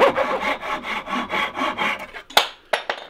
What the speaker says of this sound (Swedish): Jag spänner fast den och så sågar jag